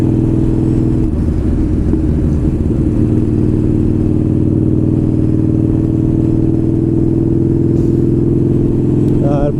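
A Buell motorcycle engine runs on a ride, a loud, steady low drone that stays even throughout with a brief shift in pitch early on, close and dominant, with faint voice-like sounds mixed underneath.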